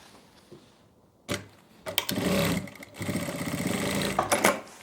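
Sewing machine stitching the seams of palazzo pants, a quiet start followed by a short burst, then a sustained close whirring run with a brief stop and restart near the end.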